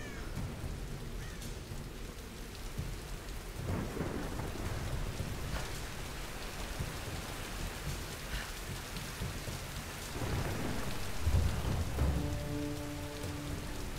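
Pouring rain drums steadily on surfaces with rolling thunder in the Tomb Raider video game, a continuous downpour with deep rumbles swelling around the middle and end, and no talking.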